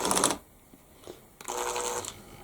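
Screws, 50 mm No. 4 or 2-inch No. 8, driven fully home into a small wooden bird feeder with a powered driver: two close bursts of whirring, a short one at the start and a longer one after a pause.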